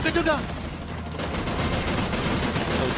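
Rapid bursts of video game gunfire crackle in dense volleys with a rumbling low end, continuing throughout at moderate level.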